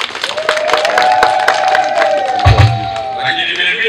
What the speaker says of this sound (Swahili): Naomba wajipigie makofi mengi sana.